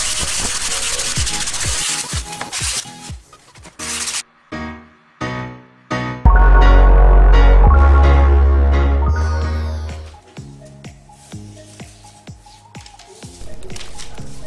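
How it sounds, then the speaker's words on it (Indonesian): Sandpaper rubbing over parts of a DIY RC model of an F-4 Phantom plane, rhythmic scratchy strokes up close with short pauses, alongside a loud sustained low tone midway. "amplas semua sisi kecuali pangkal agar membentuk sisi membulat"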